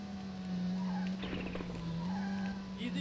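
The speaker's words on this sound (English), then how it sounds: "When I let off the accelerator, the engine sound and makes sounds like someone's slurping soup." Racing car engine in a retro racing video game, a steady low engine drone with a slight rise in pitch, overlaid by scraping squeal-like bursts and muffled talk in the middle.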